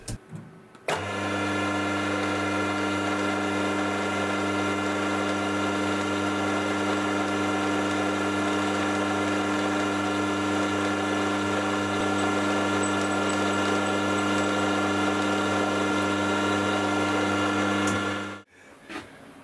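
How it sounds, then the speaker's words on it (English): A steady, loud drill motor whines continuously for about seventeen seconds while drilling a hole in a metal bracket for a lathe, then stops abruptly; no voices. "now I need to drill the second hole in the bracket for the second screw to fit"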